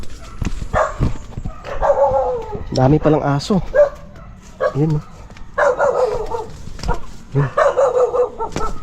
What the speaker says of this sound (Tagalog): Ah, ang dami palang aso dun sa ibaba.